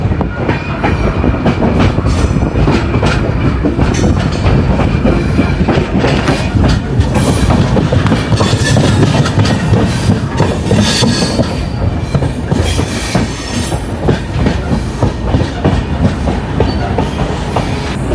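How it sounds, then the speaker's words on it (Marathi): A Goa Express train rumbles loudly along the rails, with steady clickety-clack of wheels and occasional squealing, continuous throughout. "ट्रेन आता कुठेतरी प्लॅटफॉर्मला लागते."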